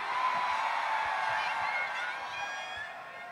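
A large crowd screams in a sustained, dense roar at a live concert during a cricket carnival in Guyana. The noise stays loud throughout, fading only slightly toward the end.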